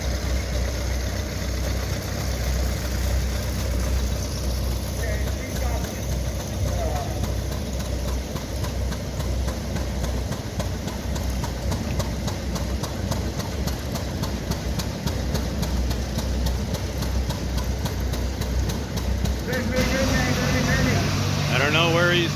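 Several Farmall and International tractor engines idle and rumble steadily at the Red Power Round Up parade in Spencer, Iowa, a continuous low drone with people talking over it throughout.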